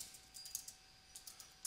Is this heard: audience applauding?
no